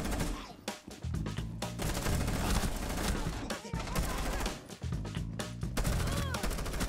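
Light machine gun fire in a Rainbow Six Siege Team Deathmatch round, repeated dense bursts of rapid shots running almost the whole time amid other game sounds, with a voice talking over parts of it.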